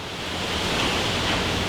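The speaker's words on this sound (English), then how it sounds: "every once in a while there will be a super strong wind gust and it sounds horrible outside" Strong wind gusts roar outside a garage in a broad, steady rushing noise that swells slightly in the middle, with no voices.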